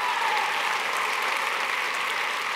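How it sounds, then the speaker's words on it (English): A TEDxRVA conference audience claps after a sing-along. The applause is full, steady and continuous throughout, with no pauses. "you're not clapping for me that time. You're clapping for you."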